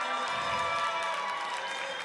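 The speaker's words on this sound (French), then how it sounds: "Applaudissements, s'il vous plaît." Audience applause at a French television game show taping in Paris, a steady moderate wash of clapping and cheering heard alone for about two seconds.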